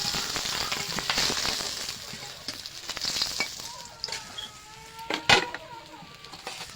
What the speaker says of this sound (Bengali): মাছটা আমি উল্টে পাল্টে ভেজে নেব।